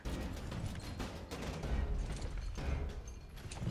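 Gunfire in the video game Gears Tactics: a dense, continuous fusillade of shots and booming impacts, loud and sustained with no pauses or talk.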